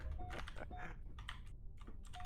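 Computer keyboard keys are pressed during an online PC game played on keyboard and mouse, giving quick, irregular clusters of close plastic clicks and taps with short pauses between bursts.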